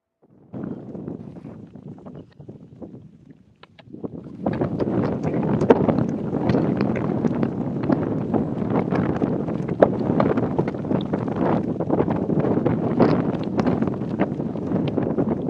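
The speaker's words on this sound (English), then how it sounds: "is really, really getting windy out there now" Strong desert wind at a rally motorbike stage start in Abu Dhabi roars and buffets the microphone in gusts; quieter at first, then a sudden loud surge that keeps blustering continuously.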